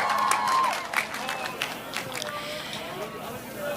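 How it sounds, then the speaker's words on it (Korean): A rally crowd in Pohang's city square cheers and claps in welcome, with a burst of shouts and clapping at the start that thins into scattered cheers. A whistle-like tone cuts through, and speech runs over it. "큰 함성으로 환영해 주십시오"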